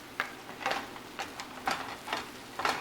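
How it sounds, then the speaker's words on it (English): Vegetables sautéing in a hot pan, a soft continuous sizzle broken by regular scraping stirs roughly every half second, close and moderately quiet. "The veggies are being sauteed"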